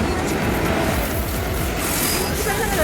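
A train at Ernakulam railway station, heard close and loud as a continuous rolling rumble with squealing wheels throughout.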